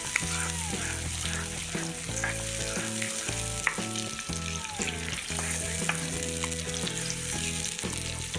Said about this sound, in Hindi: अब मैं इसमें टमाटर शामिल करूँगी। अब इसको मैं 5-6 मिनट भूनूंगी